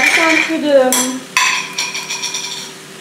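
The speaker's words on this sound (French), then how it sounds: "Je mélange" Metal utensil scraping and clinking in a pan while stirring nasi goreng fried rice, a few sharp clanks and scrapes, close and fairly loud, with faint sizzling.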